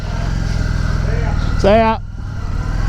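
A Harley Davidson Street 500 motorcycle engine idles with a steady low rumble throughout, while a voice speaks briefly over it midway.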